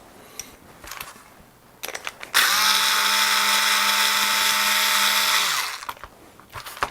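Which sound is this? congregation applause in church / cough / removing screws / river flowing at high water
removing screws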